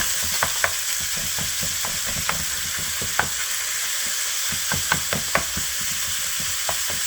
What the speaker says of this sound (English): Now you can start breaking it up and cook it until you do not see any pink in it.